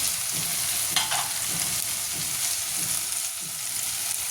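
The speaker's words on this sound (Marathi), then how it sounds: "ते फक्त मिठामध्ये छान असं परतून घ्यायचं आहे." Dal khichdi ingredients stirred and sautéed with salt in a hot pan, a steady sizzle running throughout with scraping strokes of the spoon close by.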